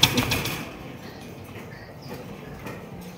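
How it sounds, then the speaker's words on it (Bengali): Short-face pigeons in a coop, with a burst of wing flapping at the start and then soft, faint cooing and rustling against a steady low background. "হাই কোয়ালিটির শর্ট পেজ কবুতর, 3 পট্টি লাল গিয়ারের।"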